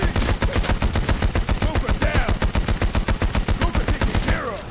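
Rapid, sustained automatic gunfire from the Payday: The Heist video game, loud and close, a steady stream of evenly spaced shots rattling on for several seconds before stopping abruptly.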